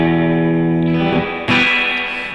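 Electric surf guitar played through an outboard spring reverb unit, sustained chords ringing with a wet, dripping reverb tail, then a bright new strum at mid-clip that washes out into splashy echo.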